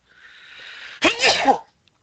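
A single loud close sneeze: a breathy inhale builds for about a second, then a sharp explosive burst follows and quickly fades to silence.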